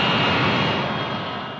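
Steady, loud broadband roar of a Boeing 787 Dreamliner's jet engines on its Dream Tour arrival, a continuous close rush that tapers slightly in level.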